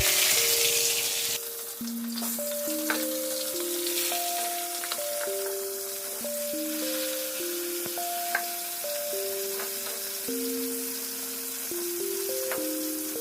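Hilsa fish frying in hot oil, a steady close sizzle running throughout with faint clinks, while sustained musical tones play over it.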